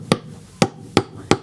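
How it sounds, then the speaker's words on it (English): A hand hammer strikes a nail four times in an uneven rhythm, each blow a sharp, close metallic knock with brief ringing decay and quiet between hits. "all you're gonna need is just a hammer and a nail"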